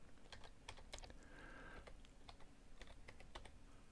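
Password typed on a computer keyboard, quick quiet key clicks in an irregular patter, close and soft, with no talk over them.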